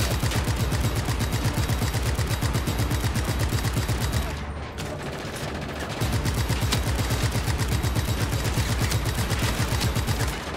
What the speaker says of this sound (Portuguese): Tô levando muito tiro, deixa eu vir por baixo aqui.